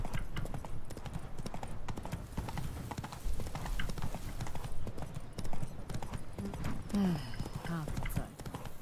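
A horse's hooves clip-clop in a steady, close rhythm while riding in The Witcher 3: Wild Hunt, Blood and Wine, with a brief whinny near the end.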